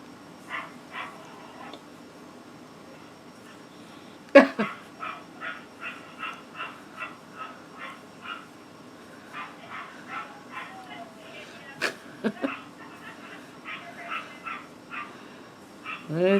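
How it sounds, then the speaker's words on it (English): A dog barks outside, heard from indoors as a long run of evenly spaced sharp yips and barks at moderate distance, with a couple of louder knocks and a voice now and then. "The dog is barking outside."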